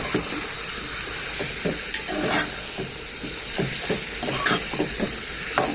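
Chicken skin frying in hot oil in a pan, a steady close sizzle with bursts of crackling and soft scraping throughout, no voices.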